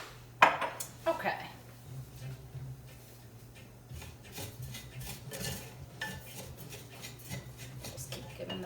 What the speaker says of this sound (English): Just keep giving this a stir. Onions are kind of starting to simmer, sizzle a little bit.